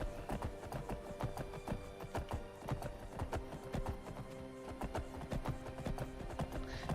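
Daedric Horse hooves in Skyrim, a fast rhythmic clip-clop of galloping footfalls, crisp and close, repeating steadily without talk.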